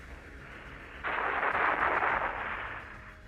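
A Cobra attack helicopter fires its weapons: a single sudden roaring burst that cuts in, holds loud for about two seconds over a low background rumble, then fades.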